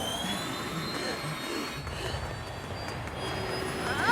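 A passenger airplane taking off in the Family Guy cartoon: a sustained loud jet engine roar with a whining high-pitched tone, building slightly toward the end.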